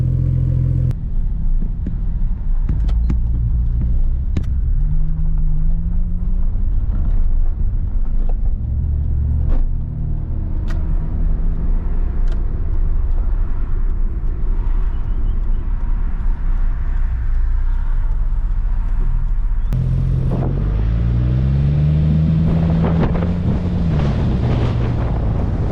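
A car with a Barra engine drives under heavy wind buffeting, its engine droning low with rising pitch sweeps as it accelerates, plus scattered knocks and clicks, and no talk.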